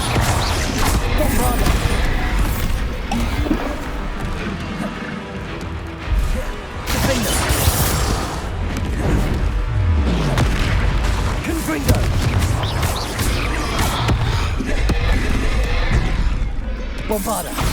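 Bombarda explosion spells go off in Hogwarts Legacy combat: a loud, dense run of booms and crashing blasts that fills the whole stretch with barely a pause.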